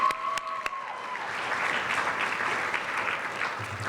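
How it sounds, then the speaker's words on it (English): A youth summit audience applauds a speaker, a steady dense wash of many hands clapping that holds at an even level throughout, with a few sharper claps near the start. "Can everyone give him one more round of applause"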